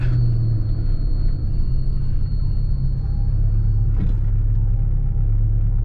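A 1985 Saab 900S rolls along in third gear, its steady low engine and road rumble filling the cabin as the brakes come on, with a faint high whine fading out partway through.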